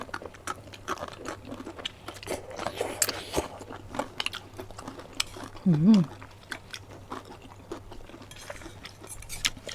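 Crunchy vegetable stalk, thick and bamboo-shoot-like, chewed with shrimp paste chili dip, giving soft close crunches and bites scattered through a quiet stretch, one louder burst near the end.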